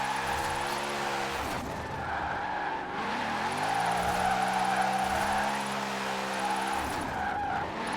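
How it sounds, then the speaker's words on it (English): A drifting car in Forza Horizon 4 wheel-spins under a droning engine, tires squealing in long, rising and falling screeches across the whole stretch. "we're generating wheel spin even down below 50 miles an hour"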